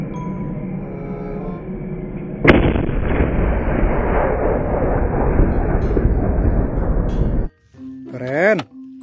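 Toy steel tank firing a gun sound effect: a sudden loud blast opens a sustained booming, crackling barrage that cuts off abruptly, followed by a short electronic warbling tone.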